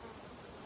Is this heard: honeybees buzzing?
yes